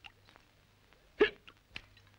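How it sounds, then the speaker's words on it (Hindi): A man, a lift operator, hiccups twice against a faint low hum: the first hiccup is sharp and loud, and a softer one follows about half a second later. "ये लिफ्टमैन हिचकियां क्यों ले रहा है?"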